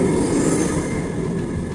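A train rolling past nearby, a loud steady rumble with metallic rattling and a faint high wheel squeal.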